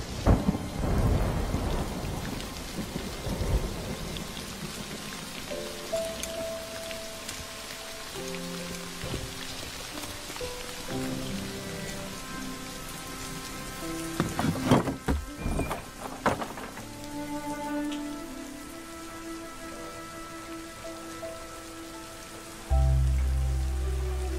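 Heavy rain pours steadily with loud thunder cracks and rumbles, including a big burst near the middle, while a music score plays underneath throughout.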